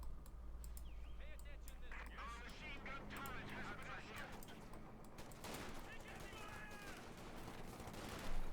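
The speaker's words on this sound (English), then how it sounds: "Machine gun opening up as well." Machine gun fire rattles in bursts through a Company of Heroes 2 World War II battle, mixed with other combat sounds and distant gunshots while a commentator talks over the action.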